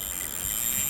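Carp fishing bite alarm at Thorney Weir: a loud, continuous high-pitched electronic tone sounding over outdoor background noise.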